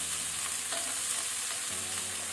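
Pasta manchurian fries in a pan on high flame with a steady, close hiss of sizzling oil and faint stirring underneath.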